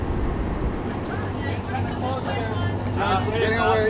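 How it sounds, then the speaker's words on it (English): Boat engines rumble steadily in a Panama Canal lock as a sailboat adjusts position, a low continuous drone with water and wind noise, while voices talk over it. "We continue to adjust position with our engines."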